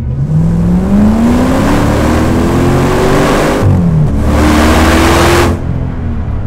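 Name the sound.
V8 off-road car accelerating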